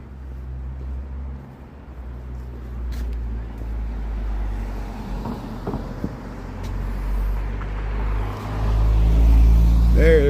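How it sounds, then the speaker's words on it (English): A Porsche drives past on a Lincoln Park city street in Chicago, its engine rumble swelling loud and close toward the end over steady traffic noise. "There goes my Porsche."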